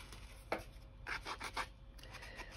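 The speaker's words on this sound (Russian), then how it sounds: "Срезаю и оттачиваю пилочкой." A small cut piece is rubbed smooth with a nail file in short, quiet rasping strokes, several bursts spaced irregularly over a faint background with no talk.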